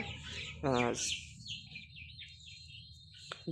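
A Tiger-breed rooster, about 45 days old, gives a short harmonic crow-like call near the mic, followed by faint bird chirps and a thin high tone over low background hum.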